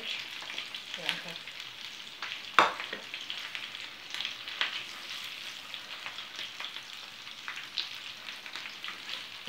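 Steady crackling sizzle of supplì, Italian rice balls with meat, frying in hot oil, with occasional pops and a clink of a utensil, close and continuous.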